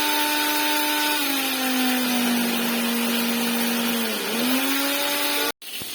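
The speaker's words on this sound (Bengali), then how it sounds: "ওই যে মশলাটা ফ্রাই করলাম সেটাকে গ্রাইন্ড করে নিতে হবে।" An electric spice grinder whirs with a high, tonal motor whine as it grinds fried spices, the pitch sagging under load and recovering before the motor cuts off abruptly near the end.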